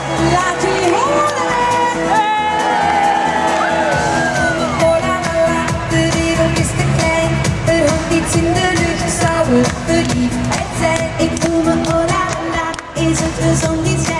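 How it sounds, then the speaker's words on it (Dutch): A large crowd of about 10,000 at an outdoor summer-evening concert in Eindhoven cheers, shouts and applauds loudly and continuously, with children's high-pitched screams and whoops mixed into the roar, backed by music. "Geef ze een daverend applaus."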